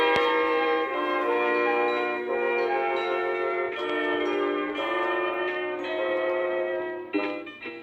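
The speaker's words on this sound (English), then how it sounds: "You will know it is time to turn the page when you hear the chimes ring like this." A bright set of chimes rings out, sustained shimmering tones that swell and change pitch several times, clear and alone, marking a page turn in a Winnie the Pooh storybook record.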